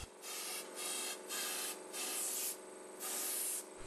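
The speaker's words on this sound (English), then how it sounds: "This needs to be removed with a wire brush." A wire brush scrubs residue out of a drilled hole prepared for a chemical anchor, making rhythmic back-and-forth rasping strokes, about six in quick succession, close and fairly quiet.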